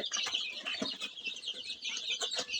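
Chickens clucking close by in a steady chatter of short, busy calls, with a few faint flaps and rustles.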